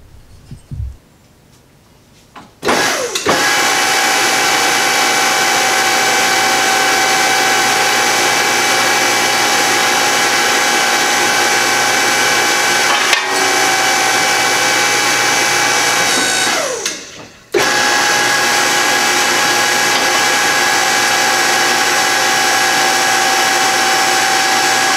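A tube bender working a tube in a shop, a steady loud motor whine starting abruptly after a brief quiet lead-in, running continuously with one short dip mid-way before resuming.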